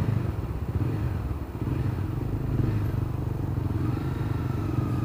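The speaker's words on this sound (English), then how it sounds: "And yes, I'm blipping my throttle because I'm getting bored." A motorcycle idling in stuck traffic with the rider repeatedly blipping the throttle, a steady, close engine rumble with slight rises in revs and faint road noise behind it, no talking.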